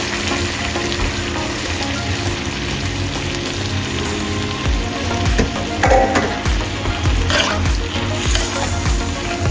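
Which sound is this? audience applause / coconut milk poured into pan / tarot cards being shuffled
coconut milk poured into pan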